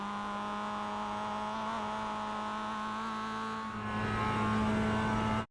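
A Mazda MX-5 accelerates onto the last straight at Oulton Park International in iRacing. The engine drones steadily, drops briefly on a shift, then climbs again louder before cutting off abruptly.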